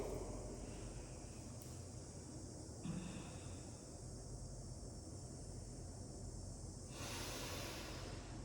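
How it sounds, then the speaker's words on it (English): Slow, deep breaths drawn in through the nose hiss steadily and close up during an outdoor yoga flow in Tulum, Mexico, over a constant wind-like background. "Keep breathing fully, deeply into the nose."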